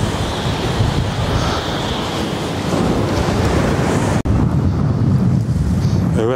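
Strong wind buffets the microphone beside Peçenek Dam reservoir during carp fishing, roaring continuously with gusty swells and water noise underneath and a brief dropout partway through.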